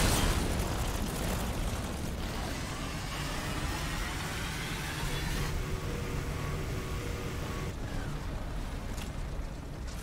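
An enemy in Resident Evil Village breathing fire, a loud continuous roaring whoosh with crackling bursts that holds steady for about ten seconds without a break.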